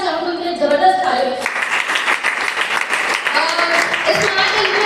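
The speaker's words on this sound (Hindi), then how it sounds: "मैं चाहूँगी उनके लिए जबरदस्त ताली" A burst of applause and cheering from an audience at a Smart Value team gathering, loud and close, with a voice heard over it at the start.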